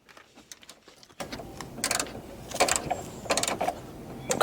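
Hands undoing bolts and a white plastic clip on a Subaru headlight, with a quiet start, then close clicks, scrapes and ratcheting rattles in short bursts and no talk.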